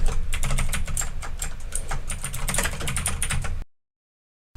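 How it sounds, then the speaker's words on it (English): Brisk typing on a computer keyboard clatters close up in quick, uneven bursts of keystrokes, then cuts to sudden silence near the end. "We're gonna type."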